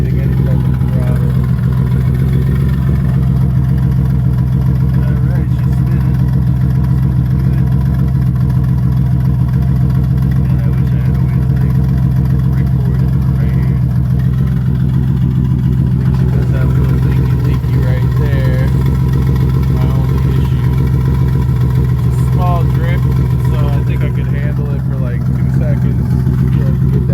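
A turbocharged Nissan G35 drift car idles in a steady, loud, low rumble that runs unbroken throughout, with voices talking over it.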